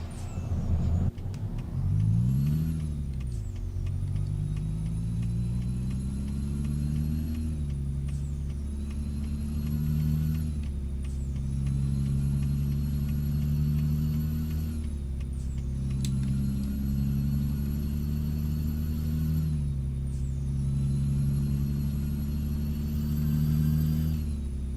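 Truck engine in the Euro Truck Simulator 2 game, a steady loud drone with low harmonics that rise and fall as the rig shifts through gears and accelerates, running continuously with no talk over it.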